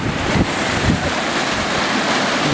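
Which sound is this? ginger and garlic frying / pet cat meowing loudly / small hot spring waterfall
small hot spring waterfall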